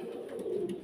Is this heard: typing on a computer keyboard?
no